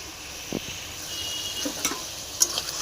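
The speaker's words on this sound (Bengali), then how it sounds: "কড়াইতে তেল গরম করে দিয়ে দিয়েছি কালো জিরে ফোড়ন, আদা বাটা, জিরে বাটা" Ginger paste and cumin paste go with black cumin seeds into hot oil in a wok, making a steady, moderate sizzle with a few sharp spits and light clinks of a utensil, close and without talking.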